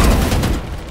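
Gunfire in the Valorant video game, a loud dense burst of rapid shots up close that fades out within a second.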